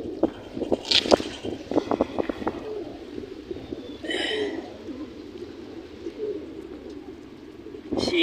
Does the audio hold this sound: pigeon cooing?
yes